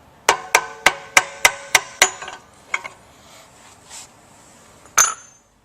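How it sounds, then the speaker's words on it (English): Metal tool tapping a pump motor coupling apart: seven sharp, evenly spaced taps close up, then a few softer knocks and one last strike, no voices. "you might have to give this one a little tap"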